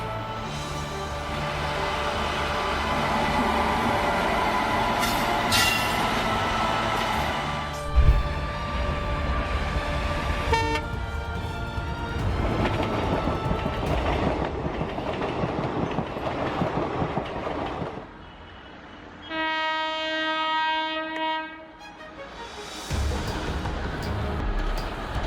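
A train rumbles past with clattering wheels, then a loud harmonic horn blast rings out alone near the end, followed by more rolling noise.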